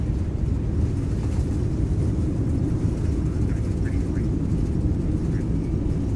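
An A320 Neo in the X-Plane 12 flight simulator rolls out after landing with reverse thrust engaged, a steady, loud, broad engine roar holding constant throughout, with a voice talking over it.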